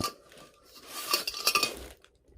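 A metal wok and other cookware clank and scrape nearby, the wok shifted and knocked against other utensils with light clinks, then quiet.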